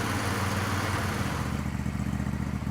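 A 2004 Troy-Bilt 809H garden tractor riding mower running with the throttle cranked up while creeping slowly, a loud, close, steady engine drone with a throbbing low rumble and a slight clattering pulse.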